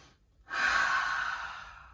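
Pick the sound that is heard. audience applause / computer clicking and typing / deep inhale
deep inhale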